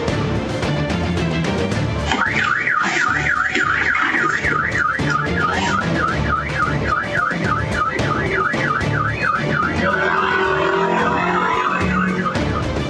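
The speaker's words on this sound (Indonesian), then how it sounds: "Suara alarm mobil yang berbunyi membuat pelaku segera melarikan diri" A car alarm wails loudly and continuously during a break-in, its rapid rising-and-falling siren cycling close by over steady background noise.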